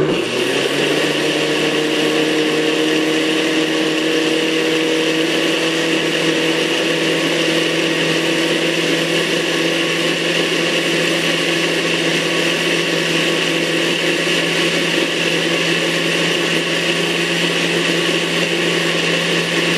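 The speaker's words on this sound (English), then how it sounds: "Cover blender with lid and beat at low speed for 20 seconds" A kitchen blender whirs at low speed, beating coconut eggnog ingredients into a creamy mix: a steady, loud motor hum with a constant pitch and even whine, running close and uninterrupted with no voices.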